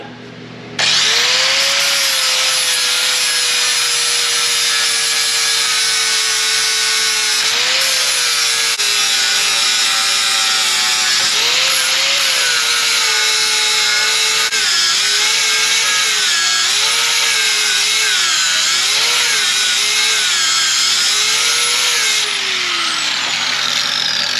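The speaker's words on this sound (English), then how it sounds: "I'm gonna try this real quick and see how quick it will grind off that." A power tool grinds an engine mount smooth during a V6 4.3 to 350 V8 swap on an older Chevy 1500 truck, its loud, close motor whine rising and dipping in pitch as pressure on the metal changes.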